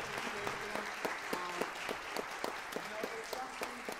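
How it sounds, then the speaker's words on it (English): An audience applauds at a banda concert, a steady wash of clapping with distant voices and a few brief tones mixed in, fairly faint throughout. "give them a big round of applause"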